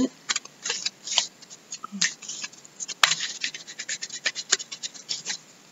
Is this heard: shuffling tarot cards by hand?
yes